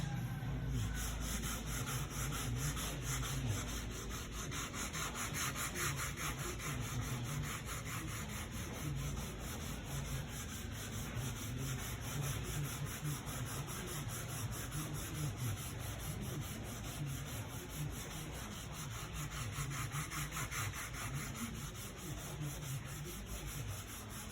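Wet sanding of a car body with a sponge and 300 to 600 grit paper while preparing it for paint: a continuous, even rubbing hiss that goes on steadily and alone, with no talking.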